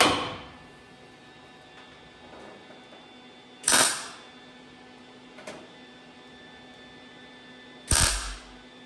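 Short, quick tack welds from a Lincoln 180 MIG welder set fairly hot on a rusty car body panel repair: two loud crackling bursts about four seconds apart plus a faint brief one between, over a steady low hum.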